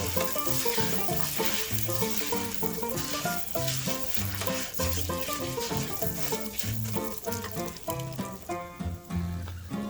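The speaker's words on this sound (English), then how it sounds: "Then you're going to start sauteing the orzo. Get a nice brown color on it." Orzo sautés in a pan for Turkish pilaf, browning with a steady, close sizzle and frequent stirring clatter throughout, no talking.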